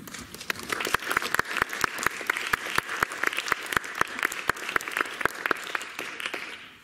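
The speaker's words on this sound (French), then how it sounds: "je lui ferai part de vos applaudissements" A modest academic audience at a round-table conference applauds. Individual claps stand out crisply in a fairly even rhythm for several seconds before fading out.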